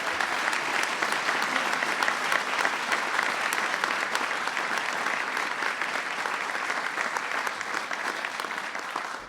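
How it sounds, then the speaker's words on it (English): An audience at a White House Diwali observance applauds World War II veteran Terry Shima of the 442nd Regimental Combat Team, a long, even wash of clapping from a large room with no talk. "Please give him a big round of applause."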